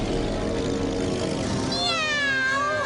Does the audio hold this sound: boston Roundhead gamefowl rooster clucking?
no